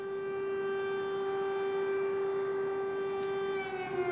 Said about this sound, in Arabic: في هذه الأثناء تدوي مجددا صفارات الإنذار هنا في العاصمة الأوكرانية كييف